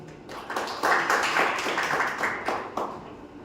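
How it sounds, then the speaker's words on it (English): Seminar audience applauding, a steady patter of many hands clapping close by for a few seconds with no talk over it. "Let us welcome him with a big round of applause."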